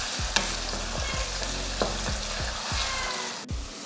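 Chopped onions sauté in hot oil in a pan, a steady close sizzle with regular stirring scrapes repeating about every half second.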